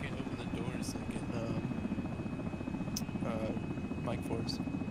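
A helicopter in the video game ARMA drones continuously with a steady low rotor rumble, while players talk over it throughout.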